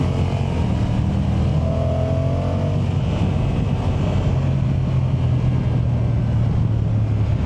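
A Honda NT1100 touring motorcycle is ridden hard under acceleration, its engine roar blended into dense, constant wind and road rush that stays loud and unbroken throughout.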